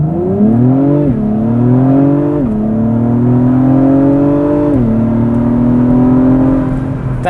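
2021 Acura TLX Type S accelerating hard from 0 to 60 mph uphill: loud engine drone climbing in pitch, then dropping abruptly at two gear shifts before climbing again, heard from inside the car without talk.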